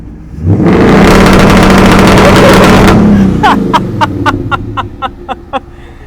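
A Ford S550 Mustang engine revs hard against an MSD two-step rev limiter, a loud sustained roar that breaks into a rapid string of sharp popping bursts as the throttle comes off.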